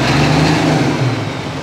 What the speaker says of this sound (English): it sounds like diesel knock